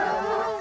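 A Gascon Saintongeois hunting dog gives a single short, loud, close yelping bark during a wild boar hunt.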